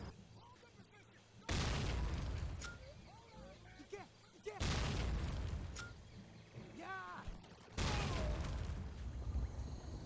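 Video game explosions blasting enemies into the air: three heavy, booming blasts spaced a few seconds apart, each with a long rumbling tail, mixed with smaller game sound effects and a voice talking over them.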